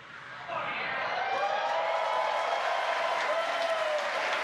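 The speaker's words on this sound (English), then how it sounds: "you can hear by the clapping and cheering behind me, Falcon 9 has landed on our drone ship" Clapping and cheering erupt after a Falcon 9 first-stage booster lands on a drone ship, rising suddenly and holding steady with whoops and voices shouting, heard from behind a nearby speaker.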